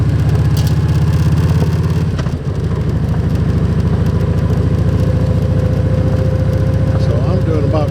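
A motorcycle rolls along a compacted gravel road at about 25 mph, its engine droning steadily and loud throughout, with a brief dip in level partway before the steady rumble resumes.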